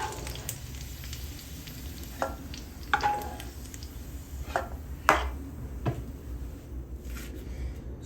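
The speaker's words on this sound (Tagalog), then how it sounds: "umpisa na natin yung ating panggigisa" Vegetables for a vegetable egg roll filling sauté in a hot pan with a steady low sizzle, broken by a few sharp utensil scrapes and clinks spread through the stretch.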